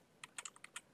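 Keystrokes on a computer keyboard while entering router configuration commands, about eight quick, light taps in an irregular burst, close and fairly quiet with no talking.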